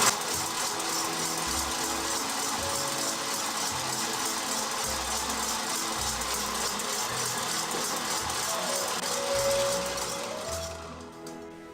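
An electric mixer whips egg whites with sugar at full speed, giving a continuous close whirring drone that holds steady and then eases off at the end.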